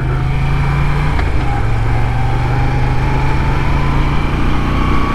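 A 2021 Moto Guzzi V7 Stone 850 motorcycle engine drones steadily while riding, a loud, constant hum mixed with wind rush and no noticeable changes in pace.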